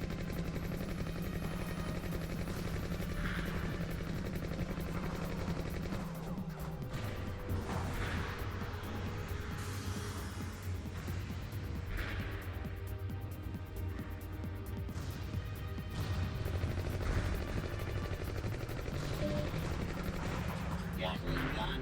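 A Gatling gun fires in the naval combat video game SeaBlade, a long stretch of rapid rattling bursts over a constant engine-like drone and game sounds, fairly loud throughout.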